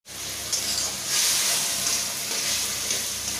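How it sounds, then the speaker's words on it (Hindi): Sponge gourd curry frying in a hot pan, a steady loud sizzle that stays even throughout with faint stirring swells, no talking over it. "इसी तरह से भूनना है"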